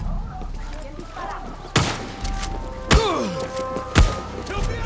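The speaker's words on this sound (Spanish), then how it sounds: "¡Tenemos un francotirador!" Three sharp, loud sniper shots ring out at intervals in Far Cry 6 gameplay, each with a ringing tail, over a busy game soundscape of background noise and effects.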